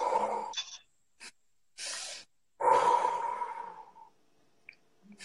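Deep breathing during a guided exercise: a long inhale, then short sniffs and breaths, then a long, slowly fading exhale, all close and clear in a quiet room with no talking.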